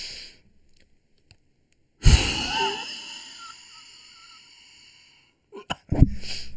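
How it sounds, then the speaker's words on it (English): A forceful exhale blown into a handheld spirometer during a lung capacity test: one loud, sudden breathy blast that tails off over a few seconds, followed by brief clicks and a short rustle. "And forcefully breathe out"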